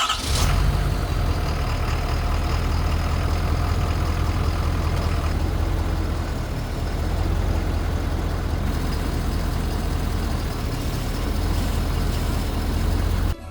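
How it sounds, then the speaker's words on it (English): A Ford F350 Platinum pickup on new 26-inch wheels runs at a loud, steady idle close by, with a deep continuous rumble and a faint whine as the steering wheel is turned. "Then let's fire it up, turn the wheel, see where we got clearance issues."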